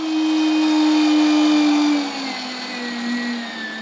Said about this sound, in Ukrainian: Нарізане сало відправляє до м'ясорубки.